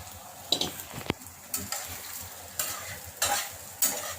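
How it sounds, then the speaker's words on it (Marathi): Soaked sabudana (sago) is sautéed in a pan for khichdi, with a soft steady sizzle and repeated scraping stirs of a spatula at a close, even rhythm. "तर साबुदाणा टाकून परतायचा।"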